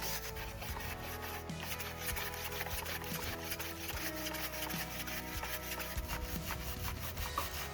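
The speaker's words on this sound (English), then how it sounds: "Clean the charcoal with a stiff brush." A stiff brush scrubs steadily over the charcoal-blackened wood of a handmade garden lantern, a continuous close rasping rub with no talk.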